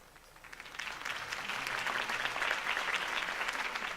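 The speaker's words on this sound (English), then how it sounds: "could have heard that applause" Crowd applause in the video game Telltale Batman swells up and continues steadily, a dense wash of clapping at moderate distance.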